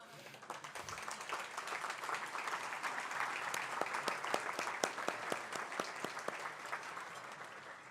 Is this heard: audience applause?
yes